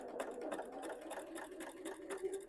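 A sewing machine runs steadily, quilting stitches along a drawn guide line on a beginner's 16-patch table runner, with a rapid, even needle rhythm close by and no talking.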